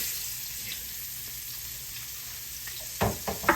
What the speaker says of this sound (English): We're gonna throw them onions in there.